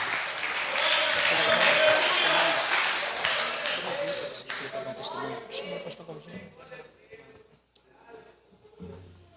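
A church congregation breaks into dense, loud applause that thins out into scattered claps and fades toward the end, with voices talking over it.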